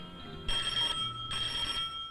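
An old-fashioned telephone rings indoors, two bright trilling bursts separated by a short pause, fairly clear against a quiet room with faint background music.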